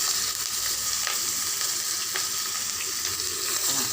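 Chopped onions sizzling in hot oil with cumin in a pan while Bengali-style rohu fish curry is cooked, a steady loud frying hiss with occasional stirring scrapes and no voices.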